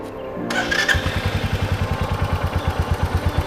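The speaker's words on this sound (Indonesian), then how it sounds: "Nah, jadi motor ini sudah fuel injection, suaranya lumayan." A fuel-injected Royal Enfield motorcycle engine cranks and fires up, then settles into a steady, low, rhythmic idle, loud and close, with no talking.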